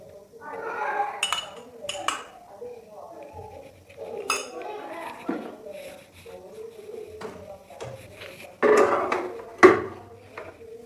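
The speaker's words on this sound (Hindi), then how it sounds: "ये देखिए, अब मैं इसको ओवन में रखने लगी हूँ।" A roast chicken tray going into an oven, with clattering metal tray and pan clinks, a door or rack clunk, and scattered rattles at close range, ending in louder knocks.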